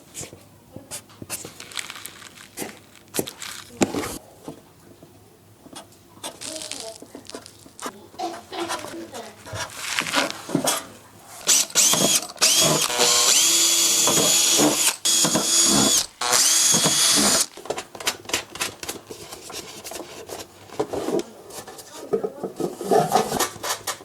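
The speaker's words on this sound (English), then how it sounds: "That way I can see when I'm drilling through." Power drill boring through a homemade video light fixture, several short bursts followed by a long, loud, steady run near the middle, with clattering metal handling and someone talking between bursts.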